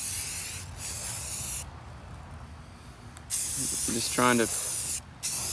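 Spray gun painting a motorcycle, a steady hiss running throughout with a brief spoken remark near the end.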